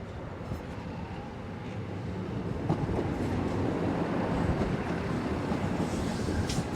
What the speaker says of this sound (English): we're waiting for the Tablelands Explorer to arrive from Sydney